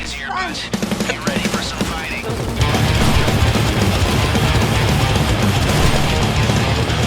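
Rapid bursts of gunfire rattle continuously in a dense, loud stream in a video game, preceded by brief clicks and tonal game sounds.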